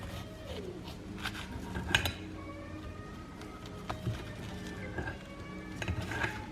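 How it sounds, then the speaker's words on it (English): Fork mashing a halved baked potato fresh from an air fryer, with scattered scrapes, soft squishes and light clinks of metal on a plate, close and moderately quiet, with no talking. "We'll give it a little mush with the old fork there."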